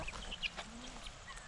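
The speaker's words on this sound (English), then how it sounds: "our guinea hens are getting pretty big." Young guinea hens on a farm give short, faint clucking calls against a busy outdoor background, the calls scattered across a brief stretch with no talk.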